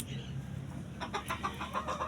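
A young spring-hatched hen that has begun laying clucks close by in a run of short, rhythmic calls, starting after a brief quieter moment.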